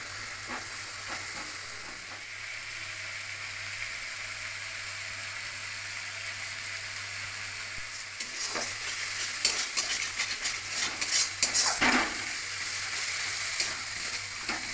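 Masala being sautéed in a pan for egg curry, a steady soft sizzle with occasional scraping stir strokes that grow louder and busier toward the end, close and alone without talk.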